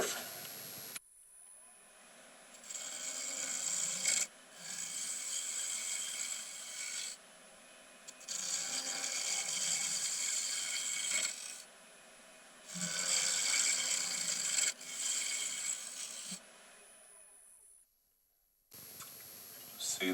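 A lathe tool cuts the inside curve of a triangular wooden tealight candle holder, giving a loud, steady rasping scrape in several long passes separated by short pauses.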